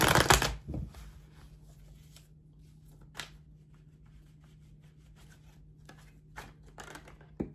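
Tarot cards being shuffled, starting with a loud riffling burst, then quieter sporadic slides and taps, plus a few sharp flicks near the end as a card topples out.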